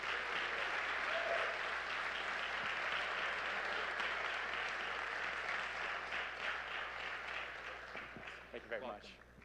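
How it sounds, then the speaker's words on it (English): An audience at a live awards event applauds and cheers in a broad, steady roar that gradually thins near the end, with a voice coming through over the fading clapping. "let's make some noise for Thomas Pallone Jr."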